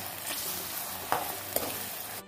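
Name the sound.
tomatoes and prawn masala frying in a pan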